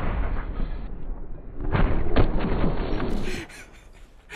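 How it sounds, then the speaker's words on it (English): A few heavy booming cannon blasts in the game Holdfast land over busy, noisy background clatter, with a sharp bang near the middle. "Oh, did you get hit by a cannon?"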